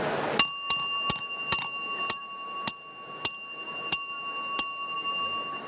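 A handheld bell is struck about ten times at a steady pace in a hall to call a keynote audience to attention. Each strike is a bright, ringing ding with a lingering tone, heard close and alone, with no voices.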